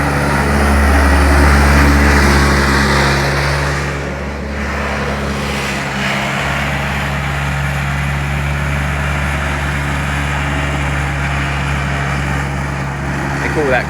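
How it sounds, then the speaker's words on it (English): A Bobcat skid steer scrapes out ground at a beach house building site in Barbados, its engine a steady, loud, close drone that holds throughout with a low hum underneath. "Bobcat scraping out."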